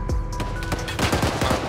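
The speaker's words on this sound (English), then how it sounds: "Shots fired." Rapid automatic gunfire in the military video game Arma 3: a dense burst of overlapping shots, loud and close, cracking in quick succession over roughly two seconds with no voices.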